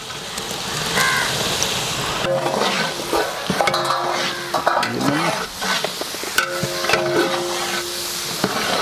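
About forty green chillies fry in a large pot of oil, bulk cooking for brinji rice, with a constant sizzle under repeated metallic stirring scrapes, while crows caw in the background.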